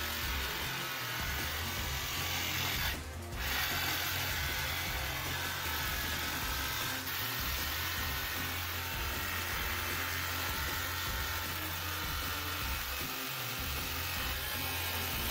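A Ryobi 18V ONE+ R18JS7 cordless jigsaw runs continuously, a steady, fairly faint motor whine and buzz with one brief dip near the start and no voices.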